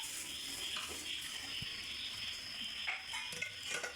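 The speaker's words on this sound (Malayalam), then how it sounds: "ഒന്ന് ഇളക്കുക ഇളക്കിയതിന് ശേഷം വെള്ളം അരി വേകുന്നത് വരെ" Kabsa rice going into boiling water in a pot, stirred with a few soft scrapes and clinks of a spoon against the metal over a quiet, bubbling hiss.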